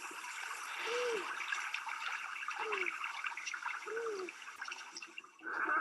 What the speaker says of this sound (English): it turns out it was a harbor seal pup, cooing almost for its mother